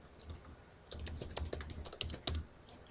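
Quick bursts of keystrokes on a computer keyboard enter a command at a router terminal, close and clear, with irregular clicks over about three seconds.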